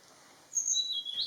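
Wild birds at a drinking hide in Kaeng Krachan, Thailand, give a few thin, high whistled calls, faint and close in a quiet forest setting.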